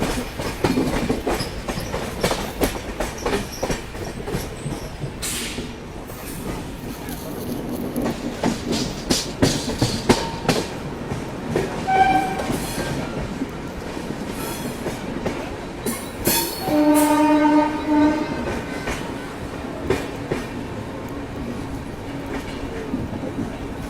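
Train pulling into Kalyan station, with steady clickety-clack of wheels over rail joints, brief squeals and a sustained horn blast near the end, heard close and loud without talking.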